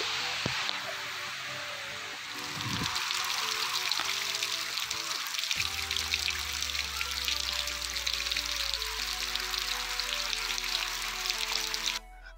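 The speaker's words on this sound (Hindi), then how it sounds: "और अभी थोड़ा थोड़ा बारिश होना शुरू हो गया है।" Rain falling in a village, a dense hiss of drops that grows fuller and heavier after the first couple of seconds, with a low steady rumble underneath and no voices.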